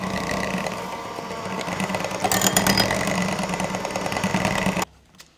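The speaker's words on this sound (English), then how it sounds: "And then you just blend everything until your cream cheese is nice and smooth." Countertop blender whirring steadily as it purees cream cheese with lemon juice for a keto dessert, a continuous motor buzz that swells slightly midway, then cuts off abruptly near the end, leaving quiet.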